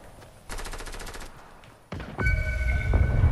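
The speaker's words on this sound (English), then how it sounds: "Who y'all shooting at?" Fortnite gunfire in a solo squads match: a rapid automatic burst, then a pause and heavier sustained shooting with ringing tones, loud and close with no talking.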